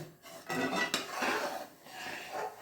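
A spoon stirs rice flakes halwa in a pan, scraping and clinking against the metal in short, uneven strokes at close range. No one speaks.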